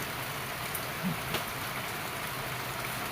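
Steady rain falling on a farm, a dense even hiss with a few faint isolated ticks, no voices.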